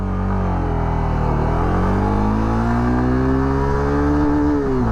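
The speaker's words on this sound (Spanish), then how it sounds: "Voy a hacerle hasta que me haga el corte de revoluciones" Honda CB300F motorcycle accelerating hard in first gear toward the rev limiter, engine note rising steadily and loudly up close, with a slight dip before climbing again.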